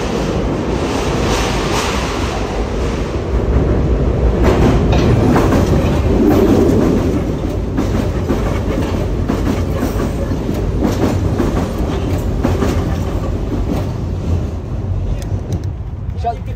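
A metro train passes through an underground tunnel with a loud, continuous roar and rattling clatter. The noise fills the whole stretch and swells slightly midway before easing toward the end.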